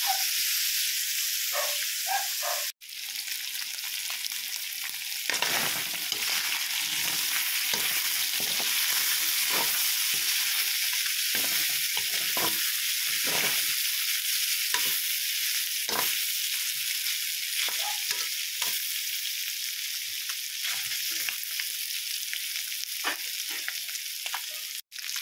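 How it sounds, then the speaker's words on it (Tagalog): Adobo sautés in hot cooking oil, a loud steady sizzle close up with scraping stirring strokes throughout and a brief dropout near the start, no talking. "sinasangkot ko na po sa mantika po"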